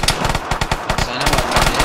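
Rapid gunfire in the Vigor video game, dense overlapping shots and bursts crackling continuously throughout, loud and close.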